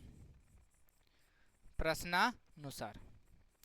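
Someone writes by hand while working a Class 10 math problem on linear equations in two variables, a soft, steady scratching close by that carries on beneath a man's spoken explanation.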